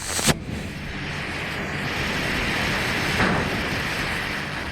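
A homemade rocket motor explodes during a nozzle test outdoors. A sharp bang at the start gives way to a steady roaring rush, and a second thump follows a few seconds later.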